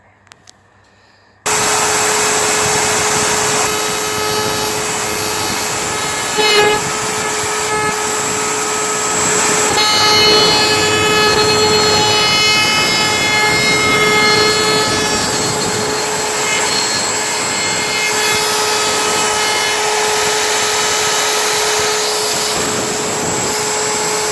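A wood router shaping a curved profile in timber for carpentry framing, a steady loud high-pitched whine running continuously after a sudden start, with slight shifts in tone as the bit bites into the wood.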